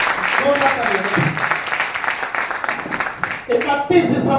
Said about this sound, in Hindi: जोरदार तालियां के लिए बोलो, जोरदार तालियां